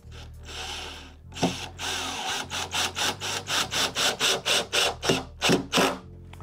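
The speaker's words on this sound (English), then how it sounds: "I'm gonna go ahead and drill the pilot holes for that" A power drill bores pilot holes in wood for a virtual pinball cabinet: a whirring motor, then a steady train of rhythmic pulsing bursts as the bit cuts, close and loud.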